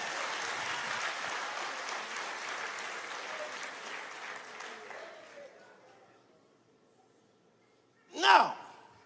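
Church congregation clapping in praise to God, a dense wash of applause that holds for several seconds and then fades away, followed by a brief louder burst near the end.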